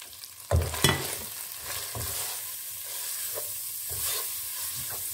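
Spiced masala for a chicken dam keema frying and sizzling in a pan, with a few sharp stirring scrapes early on, then a steady sizzle with occasional soft clinks and spoon strokes.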